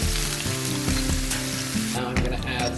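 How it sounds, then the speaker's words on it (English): Garlic and vegetables sizzling in a pan, a loud continuous frying hiss with stirring clatter, heard up close. "Sizzle, now I'm going to add my garlic"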